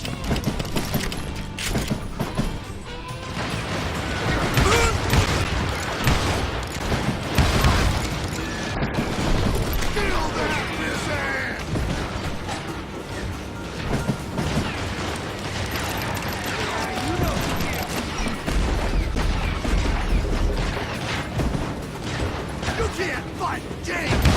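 Gunfire and explosions from the Western shooter game Call of Juarez Gunslinger pound continuously, with dense booms, crashes and rattling shots. Shouted game dialogue runs under the noise.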